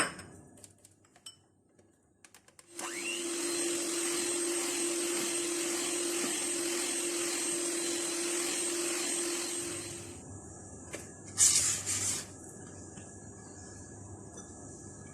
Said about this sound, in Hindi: अब इसमें हम बारी बारी अंडे डालेंगे और बीट करते जाएंगे।